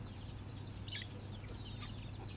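Native country chickens cluck softly in short bursts against a low, steady background hum on a farm, with no talking.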